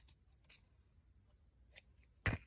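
Scissors snipping between paper flower petals toward the center: a few faint, short cuts scattered across the quiet, ending in one sharper, louder snip near the close.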